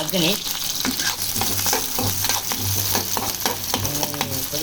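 Onions and green chillies frying in a pan for a prawn curry masala, a loud, close, continuous sizzle with scraping stir strokes and faint voices in the background.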